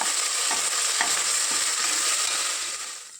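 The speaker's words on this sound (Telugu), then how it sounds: "ఇప్పుడు అదే తాలింపులోన అల్లం వెల్లుల్లి పేస్ట్ వేసుకొని బాగా కలుపుకోవాలి" Ginger garlic paste stirred into hot tempering oil in a pressure cooker for egg biryani, giving a steady close sizzle throughout with faint scraping strokes of the spoon.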